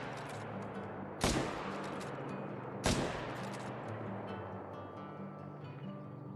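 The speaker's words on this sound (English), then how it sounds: "we're gonna start using the 300 on the long range shots" Two loud, sharp .300 hunting rifle shots in the Call of the Wild hunting game, about a second and a half apart, each with a trailing rumble over a steady outdoor ambience.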